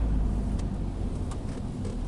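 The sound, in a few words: Nissan Primera engine while changing gears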